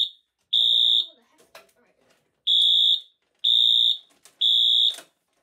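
A fire alarm sounds during a system test, giving four loud, sustained tonal blasts separated by pauses, with quiet voices and small handling noises in the gaps between.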